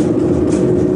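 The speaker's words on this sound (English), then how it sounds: "There's another train already." A train passing by makes a steady, loud low rumble and rattle, close and continuous for a brief moment.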